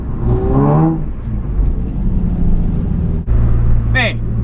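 A BMW M3 with an automatic gearbox revs while drifting at a distance, its engine whining and surging under loud, excited nearby talk, with a sharp tire chirp near the end.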